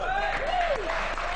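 A brief burst of dense audience clapping for a French singing group, with a voice speaking prominently over it.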